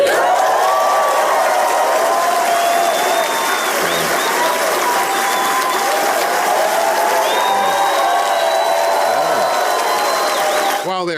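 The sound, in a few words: applause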